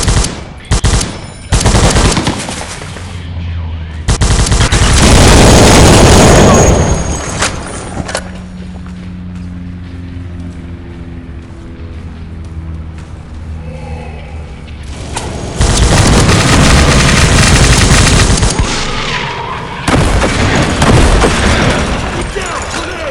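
Loud gunfire and booming grenade explosions from the World War Heroes war game, with bursts of rapid fire, heavy blasts and a quieter stretch between intense volleys.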